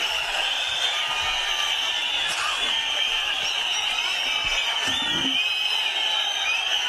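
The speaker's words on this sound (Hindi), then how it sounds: "बैरिस्टर असदुद्दीन ओवैसी साहब का तालियों से इस्तकबाल कीजिए" Large crowd at a political rally in Naoda, Murshidabad, West Bengal, welcoming AIMIM leader Asaduddin Owaisi: a steady, distant roar of massed voices and cheers with a shrill whistle-like tone running throughout and faint whoops.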